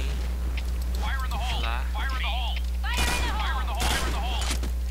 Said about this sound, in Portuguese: Já estão atirando ali.